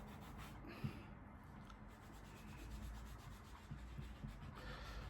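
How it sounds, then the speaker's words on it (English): A pencil eraser rubs out letters on paper in a quiet, close, continuous scrubbing with faint strokes, heard alone without talk. "Rubbing out these letters."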